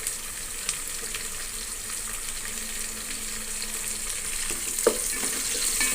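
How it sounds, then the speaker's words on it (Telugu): Green chillies fry in a pan with a steady close sizzle and faint stirring clicks, plus one sharper knock near the end, with no talk. "ఇది గోల్డెన్ కలర్ వచ్చేంత వరకు వేయించుకోవాలి."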